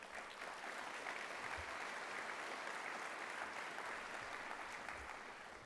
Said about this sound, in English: I think you should give yourselves a big round of applause